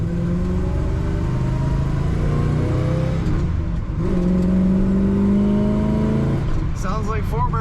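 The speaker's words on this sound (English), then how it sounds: "Sounds like 4 barrels opening up when you get on the throttle" A 1964 Chevrolet El Camino V8 with a four-barrel carburetor drives under throttle, its loud engine drone rising and falling in pitch through acceleration from inside the car, with brief talk near the end.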